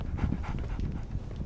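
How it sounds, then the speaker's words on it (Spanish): A dog panting in Sherlock Holmes The Awakened, quick rhythmic breaths, close and steady over a short stretch, with no talking. "Barnes has a dog now."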